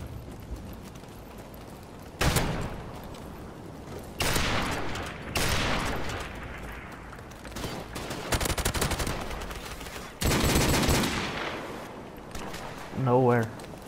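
Video game battle gunfire rings out in several loud bursts of shots, separated by quieter stretches, with a voice speaking over parts of it and a short rising tonal effect near the end.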